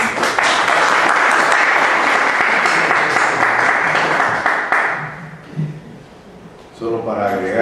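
An audience at a doctoral literature colloquium gives dense, loud applause that holds steady for about five seconds, then thins out and fades, and a voice begins speaking at the very end.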